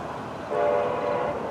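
A train horn blows one sustained tone that swells in after a moment, sounding somewhat distant over low rail rumble.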